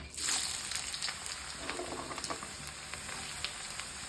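Ingredients for biryani fry in a pan with a soft, steady sizzle and faint scattered pops, fairly quiet and with no voices.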